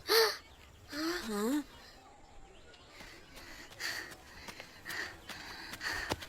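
Crows caw over a farm crop field, with a couple of loud rising calls near the start followed by fainter scattered cries and background noise; a voice speaks over parts of it.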